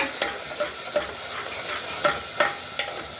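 Chopped tomato frying in a pan for a potato and cluster bean sabzi, a steady sizzle with several sharp scrapes of a spoon stirring through it, close and alone with no voices.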